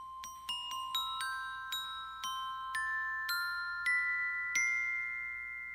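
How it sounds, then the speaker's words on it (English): Glockenspiel in an orchestral setting struck note by note, about a dozen bright metallic tones in a steady, ringing sequence with overlapping decays, played alone at moderate volume. "glockenspiel,"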